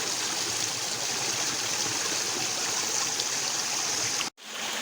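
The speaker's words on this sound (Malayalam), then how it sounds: "ഇതാണ് വെള്ളച്ചാട്ടത്തിൻ്റെ ആരംഭം." Water flows steadily at the top of Akamala waterfall, a close, full, even rush that runs unbroken until a sudden brief cut near the end.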